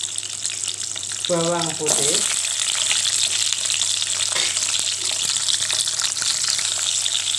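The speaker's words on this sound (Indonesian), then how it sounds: "kita mau menggongso dulu bahan-bahan seperti bawang merah" Shallots, garlic and red chili sautéing in a pan give off a loud, continuous hissing sizzle throughout, while someone speaks briefly near the start.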